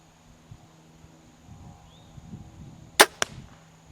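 An arrow loosed from a bow during archery practice strikes a balloon target, giving two sharp cracks in quick succession after faint rustling and quiet outdoor background.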